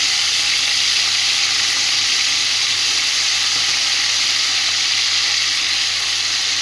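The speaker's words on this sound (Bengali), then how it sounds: "একে একে করে সব মাছগুলো কিন্তু আমি ভেজে নেব" Pieces of tengra fish fry in hot oil, giving a loud, continuous, steady sizzle with no talking.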